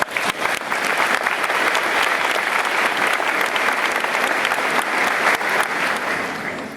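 Audience applause after a speech: steady, dense clapping from a crowd that holds level for several seconds and starts to thin out near the end.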